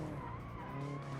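In a racing video game, a Ford Mustang slides sideways with a sustained tire skid screech over a droning engine, steady and quiet for a brief moment.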